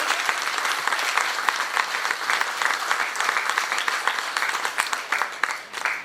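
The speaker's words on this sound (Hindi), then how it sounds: "तो जोरदार तालियों से हम भाई साहब का स्वागत करेंगे।" A seminar audience at a Brahma Kumaris talk on health and happiness gives hearty applause to welcome a speaker. The clapping is full and continuous, with some sharper individual claps standing out.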